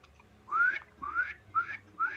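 A person whistles four rising chirps in imitation of a cardinal, evenly spaced and clear, close by over a faint low hum.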